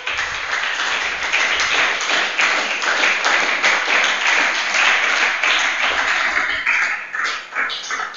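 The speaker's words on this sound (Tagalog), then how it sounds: "Palakpak!" A church congregation bursts into sustained applause, a dense, even wash of many hands clapping for several seconds before thinning out near the end.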